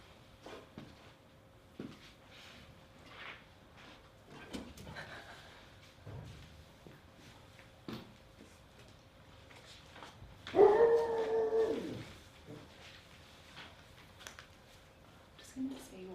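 A dog named Hercules barking and howling indoors, with scattered short barks and yips followed by one louder drawn-out howl, mixed with quiet talk.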